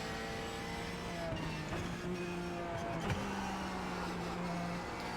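A race car engine in the iRacing sim at the Nürburgring Nordschleife holds a steady drone with rising and falling pitch as it shifts through gears, continuous and fairly close.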